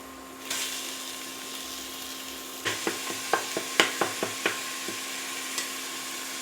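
Ground beef with salt and pepper frying in a single pot for stroganoff, a steady sizzle topped by a run of about a dozen quick scraping, tapping stirs from a utensil against the pot.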